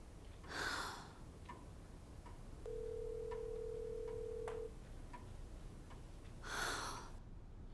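A single steady electronic phone tone sounds for about two seconds against a quiet background, with faint ticking and soft rustles around it.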